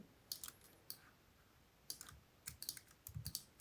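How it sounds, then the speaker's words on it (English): Typing on a computer keyboard, heard as faint, scattered key clicks in small bursts and single taps with pauses in between, quiet and close, with no voices. "look when I start typing again"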